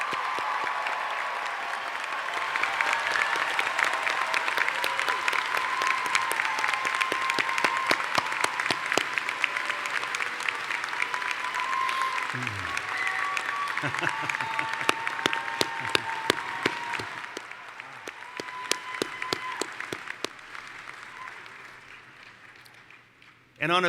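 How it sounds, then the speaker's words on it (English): A college commencement audience gives sustained applause for the faculty, a dense steady clapping that lasts over twenty seconds before tapering off. "Please help me with a thunderous applause for the Skidmore faculty"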